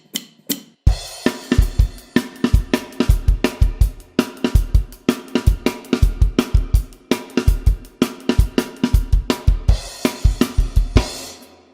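A drum kit plays the bridge of a song, with steady driving kick and snare hits and crashing cymbals, loud and close, a fast continuous groove with no talking.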